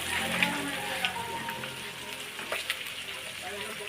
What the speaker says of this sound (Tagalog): prito kog isda